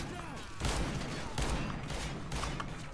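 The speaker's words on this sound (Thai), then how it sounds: "มันมีปืนกลได้เหรอ" Dense machine gun fire in the CS:GO Western co-op mission, a continuous rattling fusillade in loud bursts, up close and with no pause across the whole stretch.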